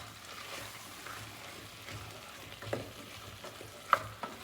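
Japanese curry mix being stirred in a frying pan, a low simmering sizzle broken by spoon scrapes and clinks, with a sharper knock toward the end.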